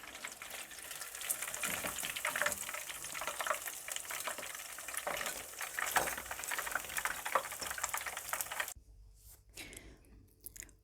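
Coated chicken pieces deep-frying in hot oil for chicken in basket, a steady crackling sizzle close up that cuts off near the end, leaving near silence, no talking.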